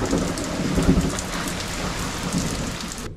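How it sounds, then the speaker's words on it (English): Heavy rain pours down in a dense, continuous hiss, with low rumbles of thunder rolling beneath it. "It is pouring out. Lightning, thunder."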